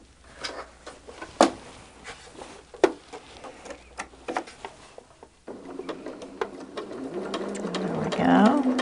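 A sewing machine stitches a stained glass quilt top, first in short start-stop bursts with ticking clicks, then running steadily and louder at close range, with a person speaking now and then.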